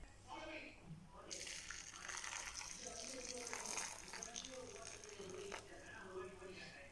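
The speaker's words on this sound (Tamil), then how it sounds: "அந்த பால் நம்ம இதில் ஊற்றிடலாம்." Freshly boiled hot milk is poured over dry fruits for a dry fruit cake, a soft, steady liquid stream lasting about four seconds, quiet and close.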